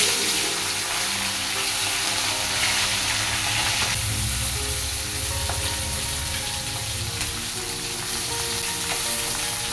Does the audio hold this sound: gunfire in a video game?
no